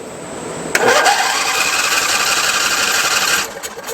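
Yamaha motorcycle with a swapped 670cc V-twin engine starts with a sharp crank, then settles into a steady, buzzing idle that runs for a few seconds before dropping off, heard up close.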